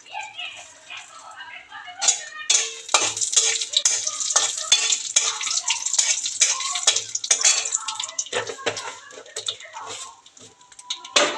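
Black cumin (nigella seeds) and chillies are stirred in a hot frying pan, with repeated scraping strokes over a light sizzle and a faint voice in the background.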